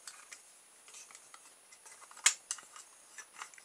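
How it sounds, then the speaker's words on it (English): Scissors cut through the plastic cap of a felt tip pen, making a series of small, close clicks and snips with one sharper crack partway through, in an otherwise quiet room. "I'm going to cut little short lengths of that just to keep the wheels away from the bodywork"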